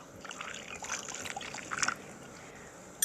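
In a video game, a glass of water is poured in a light trickling stream for about two seconds, quiet and close, then stops, with no talk over it.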